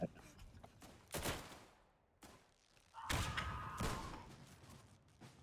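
Bursts of gunfire from the video game Frontline: Karelia, a few sharp volleys and thuds spaced irregularly, fairly faint and distant amid game ambience.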